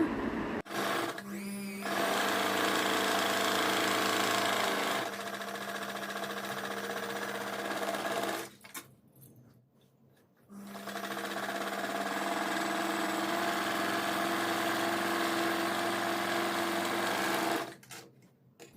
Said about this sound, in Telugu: ఈ క్యాన్వాస్ వెంబడి స్టిచ్ వేసుకోండి జాగ్రత్తగా